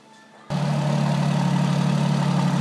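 A 2017 Alfa Romeo Giulia Quadrifoglio twin-turbo engine fires up abruptly after a quiet moment, then settles into a loud, steady, deep idle through dual exhausts, heard close and alone.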